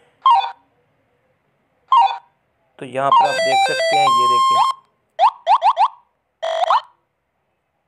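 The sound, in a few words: Snake Xenzia / Brick Game video game sounds on Android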